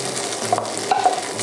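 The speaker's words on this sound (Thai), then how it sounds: "หลังจากนั้นผมเอาข้าวลงผัดเลย" Cooked rice stir-fried in a hot pan over high heat for green curry fried rice with snakeskin gourami, a close, continuous sizzle broken by a few quick scraping tosses of a spatula.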